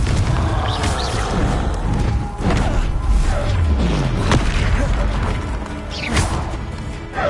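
Confringo fire-blast spell exploding in a Harry Potter video game, heard as repeated heavy booms and crashes with whooshing swishes over a dense, continuous layer of game noise, with a little voice mixed in.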